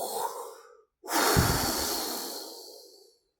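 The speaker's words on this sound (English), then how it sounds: "You like my breathing? Pretty cool" Human breathing: a soft exhale fades out, then after a brief pause a strong, close, airy breath runs for about two seconds before tailing off, with no talk.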